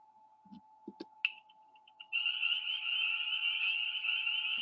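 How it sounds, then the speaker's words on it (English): A dense, continuous chorus of high, shrill peeping calls from spring peeper frogs starts after a few scattered clicks and short bursts, then holds steady and loud to the end. "These are the peepers."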